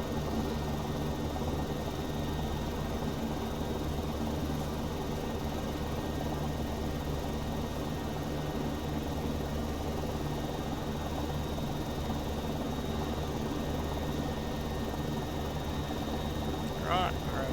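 Simulated CowanSim AS350 helicopter in X-Plane 11, a steady droning turbine and rotor hum that stays constant and loud for the whole stretch, with no voice over it.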